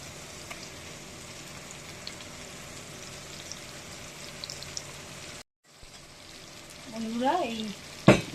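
Ground prawn-head paste fries in hot oil with a steady, soft sizzle and crackle. After a brief drop-out the sizzling resumes and a voice briefly speaks over it.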